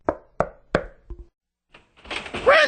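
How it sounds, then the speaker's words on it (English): Three sharp, evenly spaced knocks on a door ring out clearly, followed by a softer tap and a pause before a voice begins speaking. "He knocked on her door."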